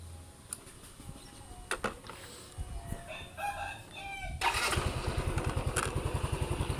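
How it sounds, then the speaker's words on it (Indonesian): A motorcycle engine is started remotely through an ESP8266-based IoT GPS tracker, then settles into a loud, steady idle with rapid regular pulsing. A rooster crows and clucks before the start, and there is no talk. "Di sini motor nyala."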